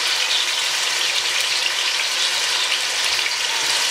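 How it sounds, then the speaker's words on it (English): Oxtail meat pieces frying in a pan, a loud, dense, continuous sizzle holding steady from start to finish. "So I'm just literally taking out the pieces of meat and putting them in the pan."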